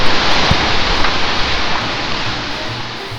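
A broad, steady roar of rushing water at Iguazu Falls on the Argentine side, close and loud, with a continuous dense wash of noise.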